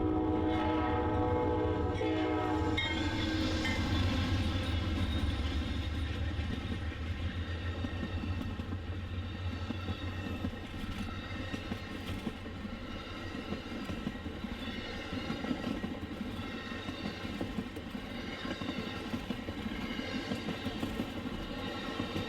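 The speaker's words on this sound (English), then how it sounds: "Amtrak number 49 appears moments later, running at reduced speed thanks to that intermodal up ahead" Amtrak passenger train number 49 rolls past at reduced speed on Norfolk Southern's Chicago Line, opening with a sustained horn blast, then a long steady rumble and clatter of cars going by, with no talk.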